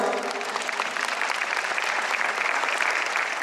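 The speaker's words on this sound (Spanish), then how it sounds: "un aplauso." Audience at an international forum in Mexico claps steadily, a dense, even wash of applause held at constant loudness throughout with no voices over it.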